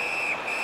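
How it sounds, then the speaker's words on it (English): A referee's whistle in the ice hockey video game NHL 17 gives a short, shrill, steady blast with a brief break, heard faintly over arena crowd noise. "Whistle blown, play stopped."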